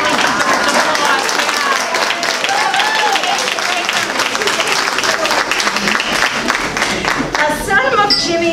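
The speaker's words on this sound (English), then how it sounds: "That's an applause." A crowd at an arts awards party and fundraiser breaks into steady applause, thick and close, with scattered voices talking through it before the clapping thins near the end.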